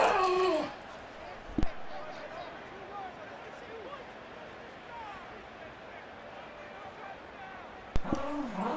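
Dogs at home whimpering and yipping, a few short high whines and yelps at moderate distance, with someone talking over them and a couple of sharp knocks.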